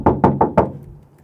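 Four sharp knocks rap on a camper door in quick succession, close and loud, each a hollow thud that decays briefly before fading to quiet.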